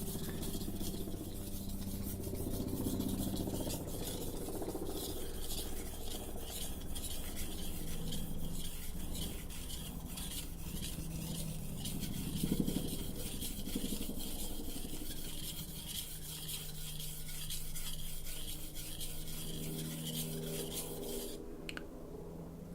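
A chef knife is sharpened on a whetstone with continuous gritty back-and-forth scraping strokes that stay soft and close throughout, alone with no voices.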